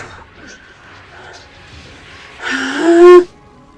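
A sword shattering in a TV drama, a loud bright crash with a short ringing metallic tone that stands out over quieter background voices and music, then falls away quickly.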